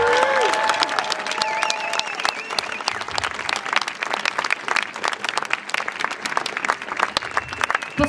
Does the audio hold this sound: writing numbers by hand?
no